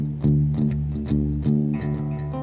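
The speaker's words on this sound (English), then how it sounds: "now we're adding it, it's going to have a little bit more distortion in it" A distorted electric guitar plays a short riff from the intro of a song, repeated chugging chords with a driving rhythm, loud and close.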